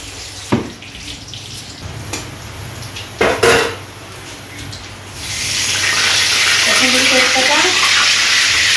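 Whole spices, including cardamom, drop into a hot kadai and start a steady, loud sizzling hiss that carries on unbroken, after a few clinks and knocks of cookware in a home kitchen.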